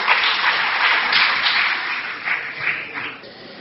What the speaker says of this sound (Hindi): मैं आप सबसे आग्रह करूंगा कि तालियों की गड़गड़ाहट से उनका स्वागत करें।